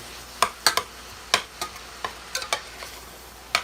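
Hot dogs browning in a home kitchen pan, a quiet sizzle with a series of sharp pops and ticks coming at irregular intervals, close up and with no talking.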